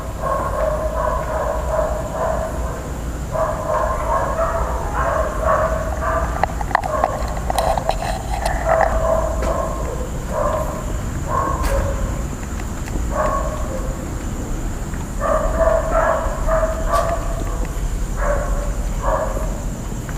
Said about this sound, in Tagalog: Ayun nga po yung aso.